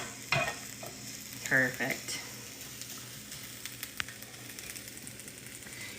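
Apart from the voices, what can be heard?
food sizzling in pan, being tossed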